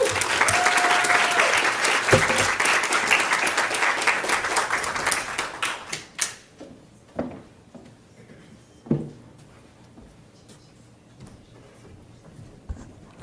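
An audience at a health summit welcomes a keynote speaker, an Assemblymember, with loud sustained applause that fades after about six seconds into scattered footsteps, knocks and room noise.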